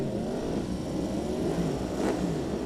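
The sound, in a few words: superbike engines revving on the starting grid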